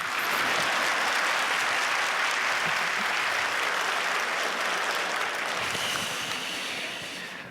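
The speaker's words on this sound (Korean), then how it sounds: "찬양은 박수를 받죠." Church congregation applauding after a worship song, dense loud clapping that holds steady and then begins to taper off toward the end.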